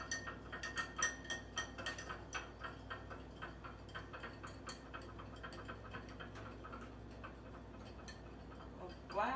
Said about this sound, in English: So we're just going to whisk it in.